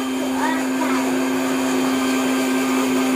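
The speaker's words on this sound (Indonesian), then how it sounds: "Mbok iki blender obat." An electric blender grinds medicine, its motor holding a steady, loud whine with a strong constant hum throughout, close by and without pause.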